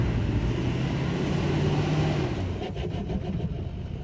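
A turbocharged truck engine drones steadily, loud and close, with a low rumbling note and broad rushing noise. A faint whine runs through it before easing off near the end.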